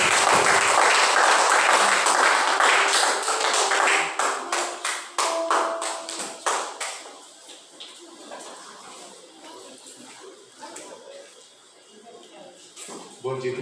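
A church congregation claps together at a lively service, with dense, loud applause at first that thins into scattered, rhythmic hand claps and tapering bursts, while voices carry on over the top.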